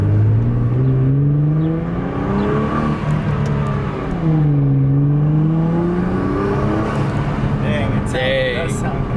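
Nissan GT-R R35 with an AAM 2.75-inch intake revving repeatedly, engine pitch sweeping up and down in loud close blips, with people talking over it.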